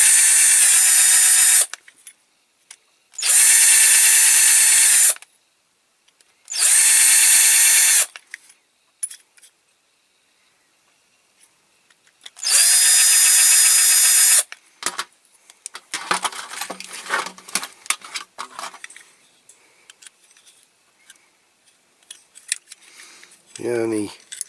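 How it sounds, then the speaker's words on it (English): An electric drill whirs in four loud bursts separated by pauses while drilling a Matchbox Kingsize Aveling-Barford road roller toy, followed by clattering, scraping and metallic handling noises. "So I'll go slightly bigger with my drill."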